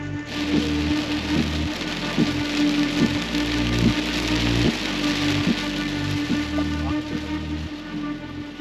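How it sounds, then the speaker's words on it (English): Heavy rain pours down steadily on a vehicle, a loud, dense and constant wash of drops with no pauses. "It doesn't really look like it, but it's absolutely bucketing down."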